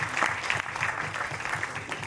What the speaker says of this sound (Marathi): एकदा ज्योति मॅम साठी जोरदार टाळ्या झाल्या पाहिजे.